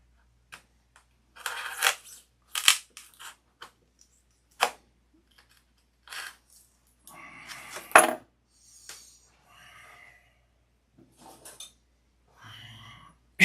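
Cutting and breaking apart the epoxy-bonded center section of a Sig Magnum model: a run of sharp clicks, snaps and scraping bursts at close range, irregular and loud, with pauses between strokes and no talking.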